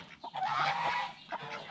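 Ducks kept alongside chickens in a backyard poultry pen give loud, nasal honking quacks close to the microphone in a short burst, then a few quieter calls.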